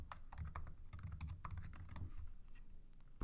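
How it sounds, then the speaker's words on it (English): Fingers type quickly on a computer keyboard, with close, crisp key clicks in fast, uneven bursts and no voice. "we need to type what's going to be displayed to the user"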